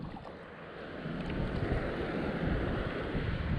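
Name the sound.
wind blowing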